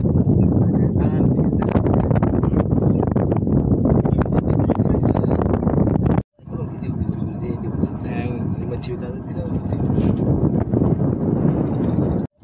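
Strong monsoon wind buffets the microphone in a loud continuous roar during river fishing from a boat, with a brief cutout midway and a voice speaking under the gusts.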